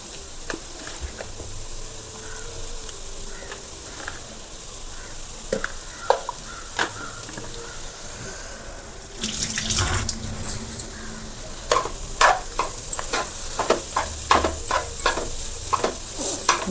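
Egg fried rice with garlic stirred and scraped around a hot pan, steady sizzle throughout with sharper clattering spatula strokes in the second half, close and fairly loud, no voices.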